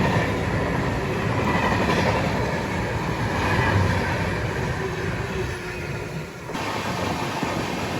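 Dhauli Express on the Howrah–Puri route rolls past near Balasore, a steady loud rumble of carriages and wheels on rails lasting throughout, with a brief dip toward the end.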